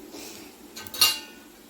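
A lid set down on a nonstick pan cooking Telangana sarva pindi, one short metallic clink near the end after faint kitchen rustle, close and alone.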